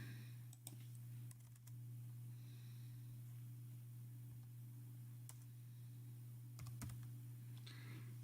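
Typing on a computer keyboard while filling in a spreadsheet: scattered light key clicks, some in quick pairs, faint and close over a steady low electrical hum.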